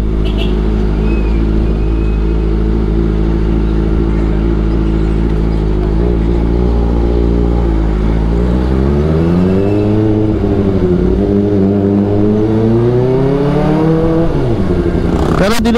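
Kawasaki Ninja ZX-4RR with an AR aftermarket exhaust, idling loud and close with a steady rumble before the revs climb and rise and fall in a couple of throttle blips near the end.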